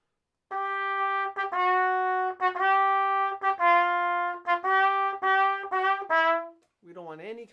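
Brass instrument playing a string of sustained notes, each entry scooping up into pitch rather than landing centered, with short breaks between phrases and a brief pause near the end before a wavering fragment.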